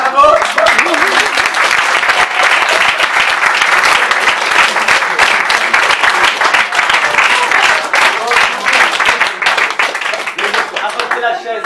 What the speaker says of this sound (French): on peut applaudir madame qui se lève spontanément, bravo.